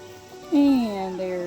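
A single rooster crows nearby, one loud drawn-out call rising and then trailing off against faint background noise.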